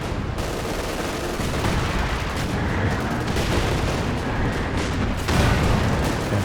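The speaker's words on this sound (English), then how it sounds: "Mortar cover coming down here now. Katyusha barrage." Katyusha rocket artillery barrage with mortar fire in Company of Heroes 2, a dense, continuous roar of overlapping blasts and rumbling impacts that holds steady for several seconds and swells louder near the end.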